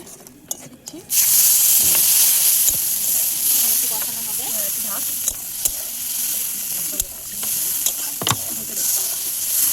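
Red chili powder and cumin powder hit hot oil in a pan aboard a village boat, bursting into a loud, continuous sizzle and hiss after a few quiet clicks, with occasional scraping stirs.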